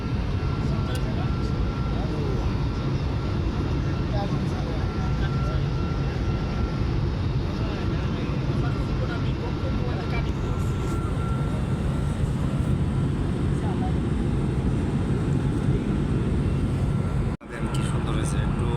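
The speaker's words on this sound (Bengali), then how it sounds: "কুয়াশার উপরে হলো বিমানটা" Steady broadband drone of a passenger airliner's engines heard from inside the cabin while cruising above fog, loud and continuous with muffled voices underneath, briefly cutting out near the end.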